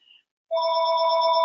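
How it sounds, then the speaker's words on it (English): A telephone rings during a webinar, a short electronic chirp followed by a steady, fairly loud ring tone that continues without any voices. "Sorry about that phone ring, folks, on the webinar."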